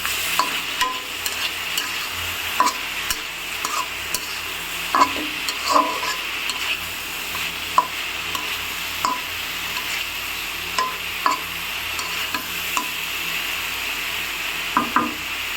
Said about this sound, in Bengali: গ্যাসের চুলাটা একটু লো আঁচ করে দিয়ে একটা ঢাকনা দিয়ে ঢেকে এটাকে কিছুক্ষণের জন্য ভেজে নেব